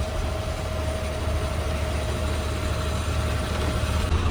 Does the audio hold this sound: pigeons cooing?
no